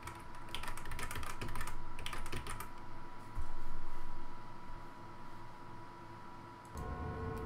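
Fast typing on a computer keyboard clatters in quick bursts for the first few seconds, then thins to sparse clicks over a steady low hum.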